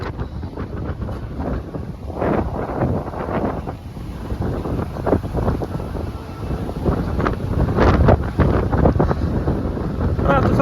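Strong coastal wind buffets the microphone in heavy, shifting gusts along a Costa del Sol seafront, loud and close throughout, rising toward the end, with no clear speech over it.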